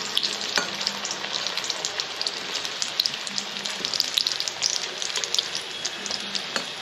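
Potato fritters (aluri) sizzle and crackle in hot oil for an iftar snack, a dense, steady hiss with frequent sharp pops close by, running without pause and no talking.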